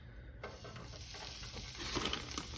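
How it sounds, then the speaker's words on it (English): Salisbury steak patties, still partly frozen, sear in a hot pan with a steady sizzle that starts abruptly and holds broad and close, with faint stirring scrapes underneath. "I'm gonna get the patties seared off first"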